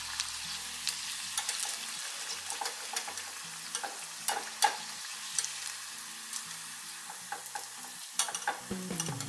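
Paneer popcorn deep frying in hot oil, a steady crackling sizzle with scattered sharp pops and occasional scraping stirs, close and fairly loud with no talk.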